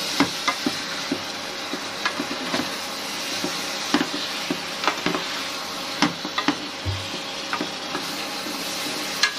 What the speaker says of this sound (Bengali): তো এখন এইগুলিকে আমি ভালোভাবে নেড়ে চেড়ে নিচ্ছি।